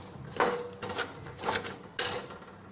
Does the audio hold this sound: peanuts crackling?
yes